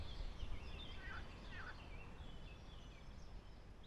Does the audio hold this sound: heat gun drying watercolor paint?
no